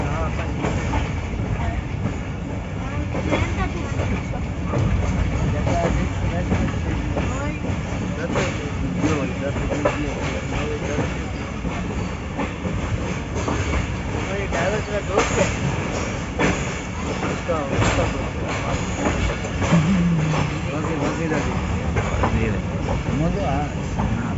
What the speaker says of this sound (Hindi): Seven up Tezgam express approaching Lahore junction.